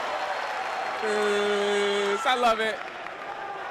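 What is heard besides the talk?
fans cheering at a wrestling championship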